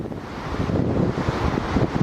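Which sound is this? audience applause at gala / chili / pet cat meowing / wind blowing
wind blowing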